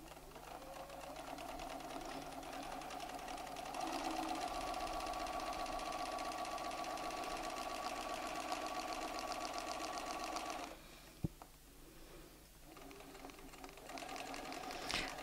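Domestic sewing machine stitching steadily with a ruler foot riding along a quilting template, a continuous close mechanical whir with fine rapid needle rhythm that drops out briefly near the end, marked by a single sharp click, then resumes.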